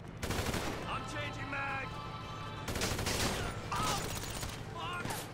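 Automatic weapon fire in GTA 5 Online, rapid bursts of shots in two long volleys with clicking and brief electronic tones between, under occasional talk.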